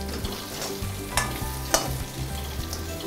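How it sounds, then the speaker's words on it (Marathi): A spoon stirs and scrapes through a potato vegetable curry with fresh coriander in a pan in short repeated strokes, over a low steady sizzle and a faint hum, with no voices. "कोथिंबीर घालूया थोडीशी आणि व्यवस्थित मिक्स करूया"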